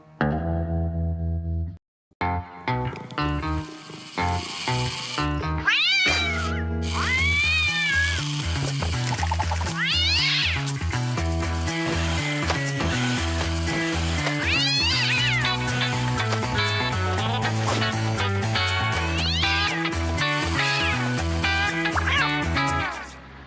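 A cartoon cat meows repeatedly over a bouncy music score, its sliding cries rising above the tune at intervals, loud and close, with no talk.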